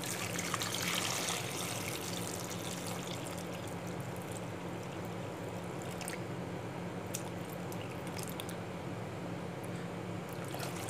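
About 1.5 litres of water is poured into a pot holding plums and sugar for plum juice, a steady trickling, splashing stream heard close and alone, fading into lighter drips.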